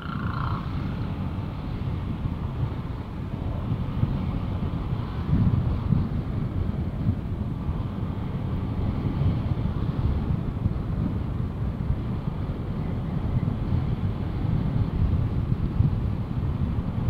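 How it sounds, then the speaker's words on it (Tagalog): Strong wind buffets the microphone outdoors at Eastwood City in Libis, Quezon City, a steady low roar that holds for the whole stretch, with faint traffic rumble beneath and no talking. "Lakas ng hangin."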